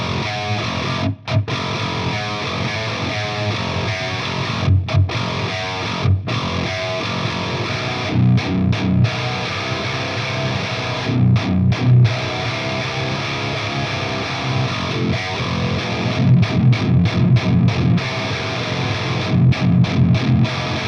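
A heavily distorted 8-string electric guitar, run through an Axe FX with Ownhammer impulse responses, plays loud, chugging metal riffs with beefy lows and thick mids, stopping abruptly in short rhythmic gaps.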